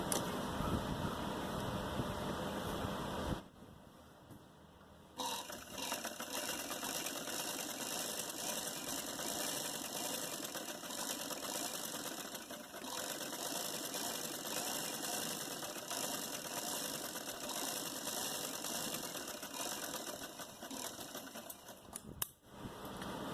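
A sewing machine runs a long steady stitching stretch along the edge of a salwar poncha, a fast even mechanical whir and clatter with a short pause near the start, close and alone without talking.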